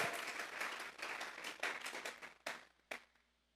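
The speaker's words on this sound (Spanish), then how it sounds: "Le vamos a regalar ofrenda de palmas al Dios de la gloria." A church congregation applauds during a sermon, a faint, distant patter of many hands that thins out into a few final scattered claps.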